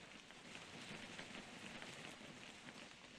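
Light rain in a video game falls as a steady, soft, even hiss, faint throughout and unbroken, with no voices.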